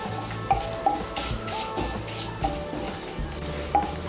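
Whole spices, cardamom, cloves, cinnamon, a dried red chilli and cumin seeds crackle and sizzle in hot oil, a soft steady fizz broken by a few sharp clinks of a spoon against the pan.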